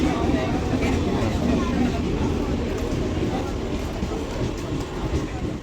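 A train runs along its rails with a steady, loud, dense rumble and rhythmic rattling throughout, with voices faintly audible underneath.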